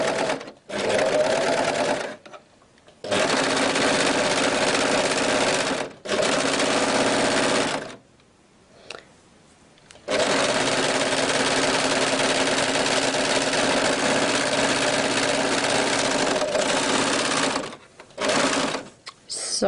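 Sewing machine stitching along organza fabric close to a cotton edge, running in several loud bursts of steady motor whir separated by short pauses, with no talk.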